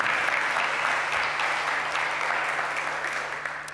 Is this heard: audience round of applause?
yes